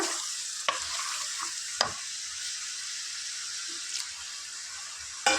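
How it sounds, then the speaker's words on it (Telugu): Tomatoes stirred into sizzling mutton curry in a pan, a steady close frying hiss punctuated by a few sharp spoon knocks against the pan. "ఇప్పుడు ఇందులో టమాటా యాడ్ చేసుకున్నాం ఫ్రెండ్స్ ఒక టూ మినిట్స్ ఇట్లా కలుపుకున్నాక"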